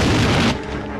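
Enemy gunfire in a war film battle, a dense roaring burst of shots that cuts off abruptly after half a second, leaving a lower rumbling tail.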